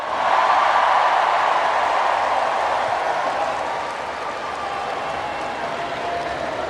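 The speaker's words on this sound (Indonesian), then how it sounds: "Tepuk tangan untuk Menteri Keuangan yang paling keras." A large audience in a hall applauds the Indonesian Minister of Finance at a national Teachers' Day ceremony: steady, dense clapping that holds loud for a few seconds, then eases slightly while continuing.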